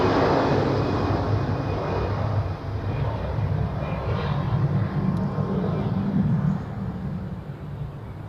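An A320 airliner departing runway 28 at Zurich, a loud steady broadband roar with a low rumble, easing off slightly toward the end, with wind noise and no talking.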